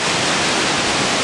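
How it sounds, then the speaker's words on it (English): Hurricane Gustav drives heavy rain and strong wind in a dense, loud, unbroken hiss, a close roar of downpour with no voices. "Raining really hard."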